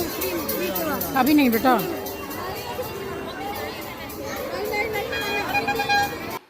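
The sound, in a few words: crowd at a temple in Vrindavan during Holi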